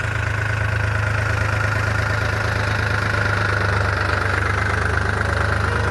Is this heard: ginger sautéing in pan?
no